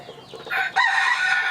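A chicken clucks and then lets out a loud, drawn-out squawk, close by and alone.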